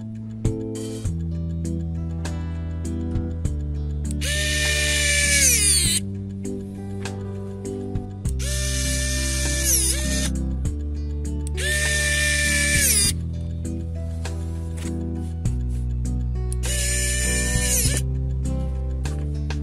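Small electric precision screwdriver driving tiny smartphone screws, a high whining motor buzz that starts and stops in four separate bursts, each a few seconds long, heard over steady background music.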